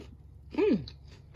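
A quick bite and crunch into a peanut butter Rice Krispies no-bake cookie with white chocolate, one short crisp chew burst standing out from quiet room tone, close to the mic.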